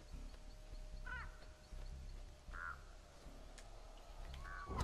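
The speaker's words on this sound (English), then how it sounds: "birds!" Crows cawing in the horror game Dead by Daylight, a few short harsh calls spaced apart over a low ambient rumble, moderately faint with no speech.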